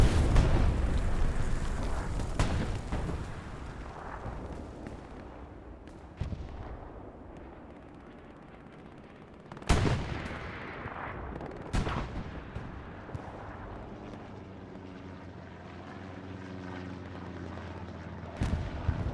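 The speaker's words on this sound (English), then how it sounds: "First shot on the IS-1 from the Panther." A Panther tank's cannon fires at an IS-1 in a battle game, with several loud, sharp blasts spread across the stretch, each trailing off in a rumble, over a backdrop of battlefield noise.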